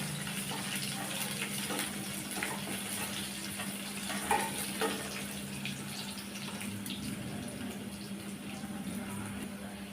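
Tomato and lentil chutney ingredients with broken dried red chillies sauté in a pan, producing a low, steady sizzle and soft stirring noise over a faint constant hum.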